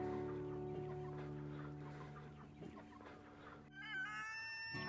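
Backyard chickens cluck and call close by, with a farm dog herding them. Steady tonal hum runs underneath, and sharper bird calls come in near the end.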